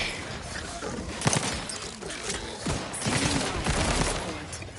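Rapid, busy gunfire from a weapon in Outer Worlds 2, a dense stream of overlapping shots and impacts at moderate level, mixed with game effects and some voice in the background.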